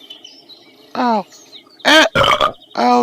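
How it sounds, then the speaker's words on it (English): A cartoon character lets out a series of loud, croaky burps, one near the start and three more in quick succession toward the end, with short gaps of quiet between them. "Why are you burping so much?"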